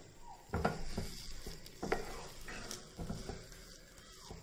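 Rava being stirred as it cooks in a pan, with a faint sizzle under repeated scraping strokes of a spoon against the pan and a few louder knocks, close and moderate in level.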